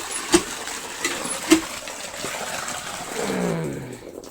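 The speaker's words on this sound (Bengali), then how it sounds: "জলটা একটু ভরে নিই।" Water from a household tap: a few sharp clinks and knocks early on, then a rising hollow gurgle as a vessel fills near the end, fairly faint and close.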